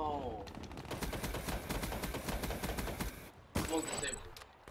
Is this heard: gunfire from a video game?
yes